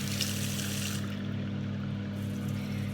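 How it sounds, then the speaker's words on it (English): Tap water trickling slowly into a bathroom basin while makeup brushes are washed, a steady, close, continuous low-flow wash of water with a faint hum beneath it. "see look, it's like literally trickling out of here"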